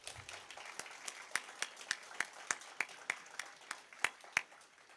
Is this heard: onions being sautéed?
no